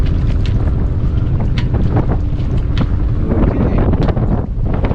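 Rising wind buffets the microphone aboard an Allied 36 ketch sailing single-handed toward a harbor, a steady loud rumble and rush with water and boat noise beneath and one brief spoken word.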